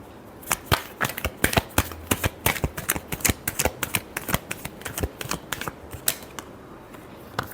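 Tarot cards being shuffled in a long run of quick, crisp riffling flicks and snaps, close and fairly loud, with no voice over it.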